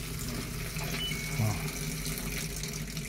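Tap water flows steadily into a Panasonic or LG automatic washing machine under repair, a constant close hiss with a faint gurgle midway.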